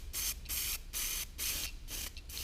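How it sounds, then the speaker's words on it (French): A can of spray paint, held upside down to purge the nozzle, lets out a rhythmic series of about six short, sharp hissing bursts, close and loud, with no speech. "après utilisation de votre bombe de peinture, c'est de la mettre tête en bas et de venir ici la purger"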